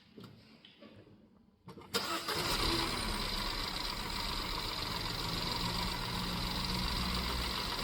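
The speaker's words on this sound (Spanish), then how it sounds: "está haciendo ruido en la distribución, tengo un ruido por acá que no sé de dónde viene, tengo una chupada de aire importante" A Citroen C4 with a cylinder fault, a timing noise and a large air leak cranks over and catches, then runs steadily at a loud, rough idle with a constant mechanical hum and hiss.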